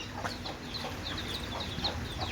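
Chickens at a rural home on a rainy day clucking and chirping in short, repeated high calls over a steady background hiss.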